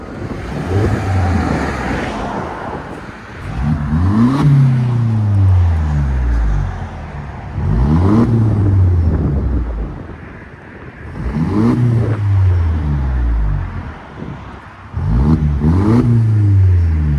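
A 2012 Mercedes C 250 with its muffler deleted revs hard in repeated bursts, a deep raspy exhaust rising and falling about four times with short lulls between, close and loud.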